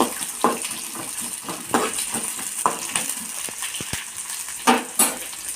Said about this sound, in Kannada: ಈರುಳ್ಳಿ ಹಾಕೊಂಡು ಈರುಳ್ಳಿ ಫ್ರೈ ಆಗ್ಬೇಕು